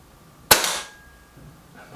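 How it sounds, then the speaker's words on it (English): A single sharp crack from a Reximex Accura air rifle, close and loud, followed by a brief decaying tail and quiet afterward. "Last shot for the Accura."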